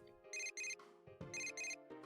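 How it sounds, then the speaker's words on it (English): A cell phone rings in the video game Persona 4 Golden: two pairs of bright electronic ringtone bursts, clean and moderately loud, with no talking. "Naoto's cell phone's ringing."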